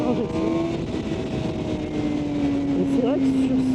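A 2012 Suzuki GSX-R750 motorcycle engine hums steadily at close range with a sustained drone that slowly shifts pitch, running continuously beneath someone talking.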